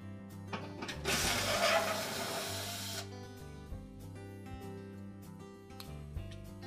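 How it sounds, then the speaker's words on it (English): A power screwdriver or drill whirs in a short burst while backing out the mounting screws of a Frigidaire oven broil element, followed by quieter clicks and handling of metal parts, close and fairly faint. "then we'll remove the mounting screws at the very back"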